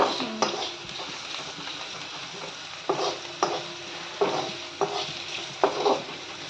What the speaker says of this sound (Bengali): খুব সুন্দর করে একটুখানি লাল লাল করে ভেজে নেবো আমি